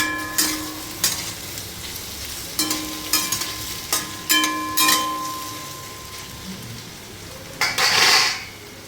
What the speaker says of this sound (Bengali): আপনারা দেখতে থাকুন, আমি ভাজা করছি।